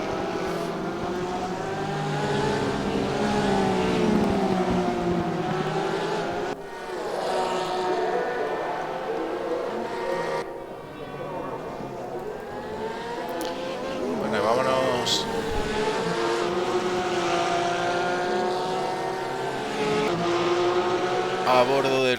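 A Porsche GT3 race car brakes hard at the Imola circuit in the RaceRoom racing game, its engine note rising and falling through downshifts under continuous excited commentary, with other cars droning nearby.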